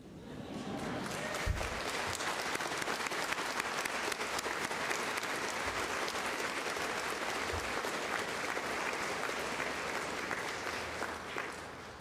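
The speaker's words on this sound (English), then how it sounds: "we do allow clapping" An audience claps at Carols on Campus, a festive carol concert, with steady, full applause sustained for about twelve seconds at an even level.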